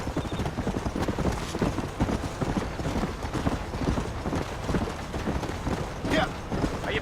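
Horse hooves clip-clopping in a steady trotting rhythm in the Red Dead Redemption video game, close and continuous while voices talk over the riding.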